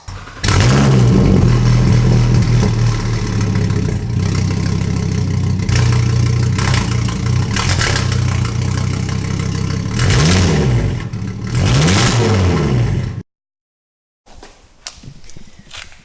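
Audi RS3 8V with its exhaust removed, revving loud and raw. A steady, close engine drone is broken by several sharp rev sweeps, then cuts off abruptly, with a little faint clatter afterward.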